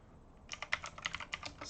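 A computer keyboard is typed on to enter a command in a debug console, with about a dozen quick, light key clicks in a short rapid burst, faint and close, after a moment of near silence.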